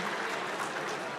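A brief round of applause from the audience at a business hall of fame ceremony, a dense, steady wash of clapping with no gaps, fairly close and even in level.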